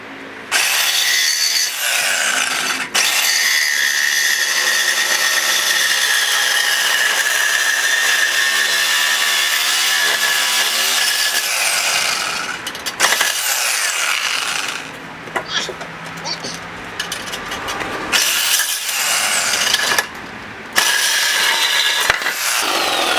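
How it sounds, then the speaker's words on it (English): A Sawzall reciprocating saw with a fresh metal blade cuts through the exhaust pipe of a C5 Corvette, a loud, continuous rasping buzz that runs long, then breaks into shorter bursts with pauses and clanks. "Got a fresh metal Sawzall blade, and we're going to be lopping this thing off right about here."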